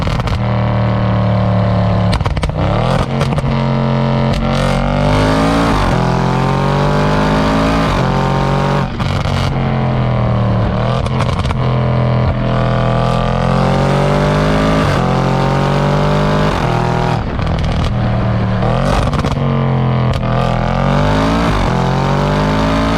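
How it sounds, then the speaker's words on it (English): Audi RS7 with a turbocharged engine accelerating hard through the gears, a loud, continuous close-up engine roar with rising revs and shift breaks, joined by sharp exhaust pops and bangs. "it's banging it, it's making these loud pops."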